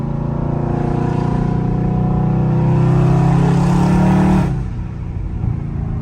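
A loud Scat Pack engine accelerates hard on a night drive. It gives a deep, rising roar that holds for a few seconds, then cuts off sharply into a low idle rumble.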